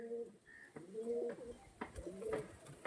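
A pigeon coos several times, soft and close, with low rounded calls in a steady rhythm against quiet background noise.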